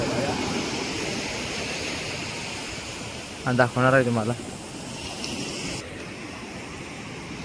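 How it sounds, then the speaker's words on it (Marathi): Strong sea waves crash and roar at the Devbag confluence of sea and creek near Malvan, a steady broad wash throughout, while someone speaks briefly over it midway. "हे बघू शकता बघा लाटा कशा आलेल्या जोरात."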